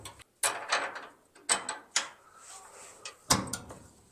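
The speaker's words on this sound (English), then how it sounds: "Shim drops in there." Metal shims dropping into place on the rear suspension of a NASCAR Camry, heard as a few short, close clinks and clatters with small pauses between.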